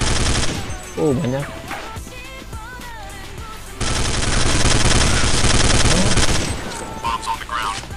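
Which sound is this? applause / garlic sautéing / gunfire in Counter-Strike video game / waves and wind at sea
gunfire in Counter-Strike video game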